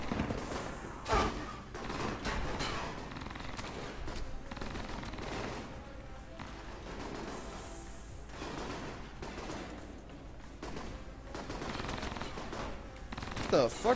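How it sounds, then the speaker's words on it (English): Gunfire in the action game Alpha Protocol: scattered bursts of automatic fire and single shots at moderate distance, irregular and overlapping, with occasional heavier thuds. "What the fuck kind of guns is who shooting off?"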